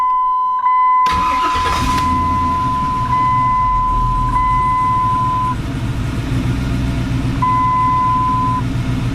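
A car engine, shown on a Terminator X setup and about to go on a dyno, starts up after a short pause. It then settles into a loud, steady running rumble with a continuous tone riding over it.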